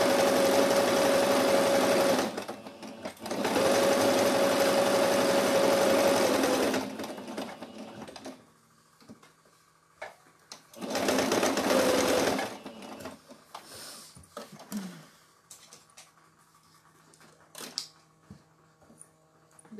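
A sewing machine stitches the hand of a stuffed toy in three loud, close bursts of rapid running separated by pauses, followed by quieter handling clicks and rustles.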